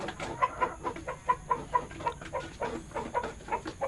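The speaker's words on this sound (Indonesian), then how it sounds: "ini ayam Elba milik saya" Clucking from a small flock of Elba chickens, one rooster and four hens about four months old, in a postal-style coop; short, rhythmic, chattering calls come one after another at close range, with no talk.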